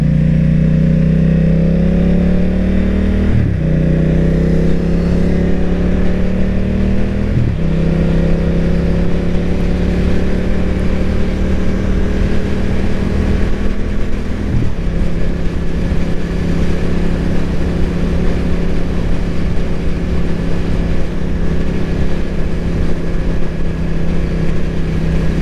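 A BMW F900R motorcycle on a commute to work drones steadily and loudly from up close, its engine note climbing and then dropping with each gear change, under constant wind rush.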